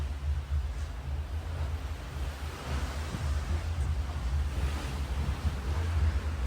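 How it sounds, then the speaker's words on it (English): Ocean waves heard from the deck of a Virgin Voyages cruise ship, a steady rushing wash of water mixed with low wind rumble against the microphone, with no voices. "Listen to the waves."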